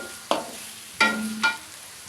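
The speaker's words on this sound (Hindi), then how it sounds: "अब हम प्याज को फ्राई करेंगे। दरमियानी आंच पे इसको फ्राई करेंगे" Sliced onions fry in a pan over medium heat, a quiet sizzle broken by three short scraping stirs, the last two close together, with no voices.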